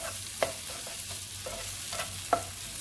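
Masala baby potatoes browning in ghee for a Kerala-style ghee roast give a soft, low sizzle, with a few sharp spoon or pan clicks standing out.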